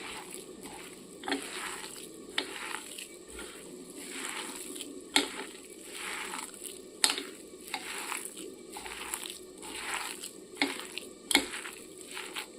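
Water lily stem pakora batter is kneaded by hand with spices and other ingredients, giving soft, wet squelching and crushing in a steady repeating rhythm with occasional sharper taps, close and moderately quiet over a constant background hum.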